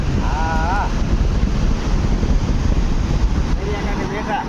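Wind buffets the microphone over a constant roar of surf, with brief bits of talk barely audible beneath the noise.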